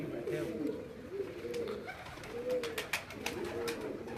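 Pigeons coo softly in repeated low, throaty phrases, fairly close, with faint background noise and occasional clicks.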